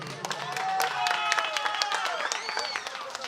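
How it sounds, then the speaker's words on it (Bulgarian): Wedding guests clap in scattered, steady applause with sharp individual claps, while voices and music-like tones carry along underneath at moderate loudness. "Аплодисменти"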